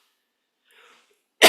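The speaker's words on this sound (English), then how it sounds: "I've had a little cough." A single short, loud cough bursts out at the very end, preceded by near silence and a faint breathy rustle.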